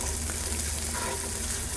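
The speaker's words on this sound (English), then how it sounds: "My pancetta is now lightly browned. I'm going to add my diced prosciutto" Diced prosciutto and pancetta frying in a pan for spaghetti alla carbonara, a dense, steady sizzle close up with no pauses.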